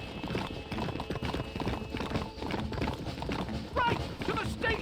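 Horse hooves clip-clop at a gallop in Red Dead Redemption, a rapid rhythmic pounding beneath a rider's shouts and a brief whinny, close and busy.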